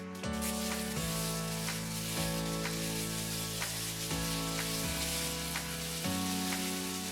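Meat fries in a pan with ketchup while being stirred, giving a steady, close sizzle and a few regular scraping strokes, with music playing over it.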